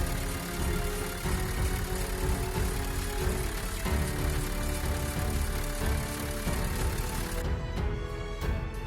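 Renault Megane 3 with a 1.5 dCi 106 HP diesel engine idling, heard up close in the engine bay, a steady rough diesel clatter and hum that holds evenly throughout.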